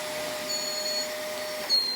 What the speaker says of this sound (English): I just need them to not feel frightened of it and to get more confident when I'm hoovering.